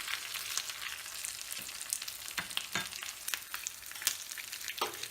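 Green chili, curry leaves and dried red chili stir-fry in hot oil in a pan for curd rice, giving a soft sizzle with irregular scraping and clinking as a spoon moves them around, close and quiet with no voices.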